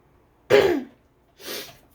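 A person coughing and clearing their throat, two short harsh bursts about a second apart, close and loud, the first stronger than the second.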